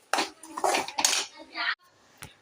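A spoon scrapes and clatters against a pan as semolina is stirred while roasting in ghee, close and busy for a couple of seconds, then a single faint clink.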